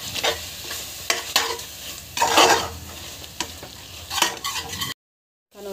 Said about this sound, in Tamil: தேவையான அளவுக்கு கர்டு வந்து ஆட் பண்ணிக்கோங்க. நல்லா வதக்கிட்டுக்கோங்க.